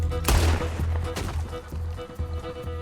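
Gatling gun fire in the video game Red Dead Redemption II, a loud opening burst followed by rapid repeated shots and crashes over a low rumble, with a voice briefly in the mix.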